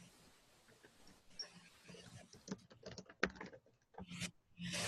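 Computer keyboard typing during an online panel discussion, a run of quick, uneven clicks and taps close to the microphone, with voices talking in the background.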